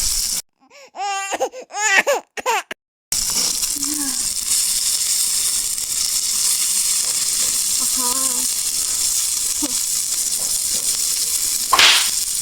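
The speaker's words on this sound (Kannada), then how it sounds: "ಮೀನು ಹಾಕಿ, ಮಸಾಲೆ ಅರ್ದು ಫಿಶ್ ತವಾ ಫ್ರೈ ರೆಡಿ." Fish frying in coconut oil with masala on a tawa, a steady broadband sizzle running continuously for most of the span after a brief burst of other sound at the start.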